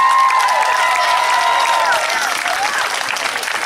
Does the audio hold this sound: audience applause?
yes